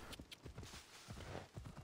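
Hooves of a horse in the video game Assassin's Creed Odyssey, faint irregular clip-clop steps on hard ground, quiet and close.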